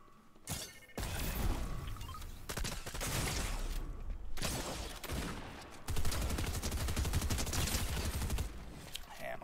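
Rapid bursts of gunfire from a sentry turret in Fortnite crackle loudly and almost without a break, with brief pauses between sustained volleys and mechanical clatter mixed in.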